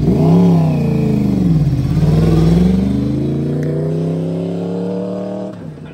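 A sport motorcycle fitted with an Arrow full-system exhaust and its catalytic converter removed revs hard and close, the engine note climbing, dipping and surging again before settling into a loud, rough idle.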